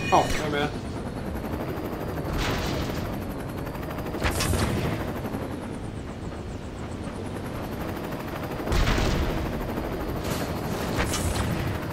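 Gunfire in the Lego Batman video game comes in rapid bursts, loud and close, over a constant droning engine hum, with one sharp shot at the very start.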